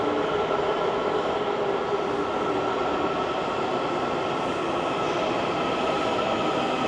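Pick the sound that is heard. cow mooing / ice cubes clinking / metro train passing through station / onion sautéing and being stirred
metro train passing through station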